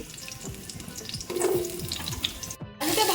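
Diced potatoes dropped into hot oil with black cumin in a kadai, quiet clatter and scraping at first, then the frying surges into a loud, close sizzle.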